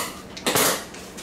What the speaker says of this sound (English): Go ahead and dump them crawfish in there.